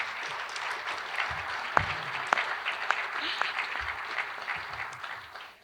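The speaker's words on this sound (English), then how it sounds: "And if you want to applaud, we can do that now." Audience applause at a candidate forum ahead of a primary election, a steady wash of clapping lasting several seconds with a few sharper individual claps standing out, thinning toward the end.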